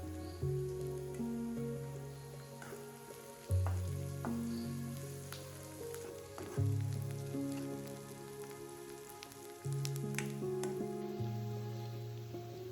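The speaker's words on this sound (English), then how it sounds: "and roasted peanuts. Let it fry well." Curry leaves and roasted peanuts fry in a pan for Asian-style yellow rice, giving a steady, close crackling sizzle throughout, with background music swelling in repeating phrases and no voices.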